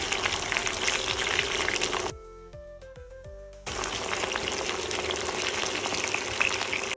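Pieces of cassava and sweet potato fry in hot oil with a loud, dense crackling sizzle. The sizzle breaks off for about a second and a half, when clinking metallic tones ring out, then the frying resumes just as strongly.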